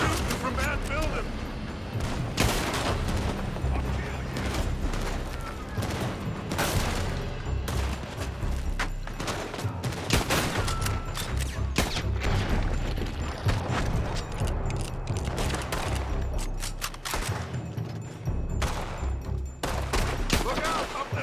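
Red Dead Redemption 2 gunshots crack in a loud, continuous firefight that runs through the whole clip, with shouting voices mixed in.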